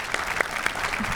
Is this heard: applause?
yes